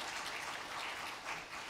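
A church congregation gives a short burst of applause during a Sunday service, a soft, distant wash of many hands clapping at a low level.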